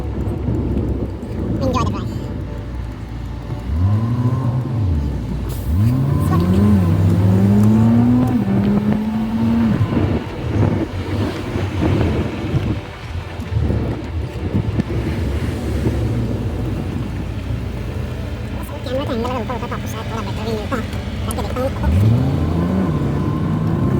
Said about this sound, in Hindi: आपको थोड़ी सी ड्राइव वापस देखने को मिलेगी, बोरिंग सी